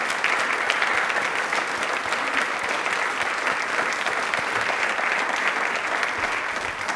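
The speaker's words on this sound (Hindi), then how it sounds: "योग पद्धति के लिए बस तालियां जोरदार हो जाएं।" Loud, steady applause from a studio audience at a televised Rajasthani quiz show, dense clapping sustained evenly for the whole stretch without a break or any voices.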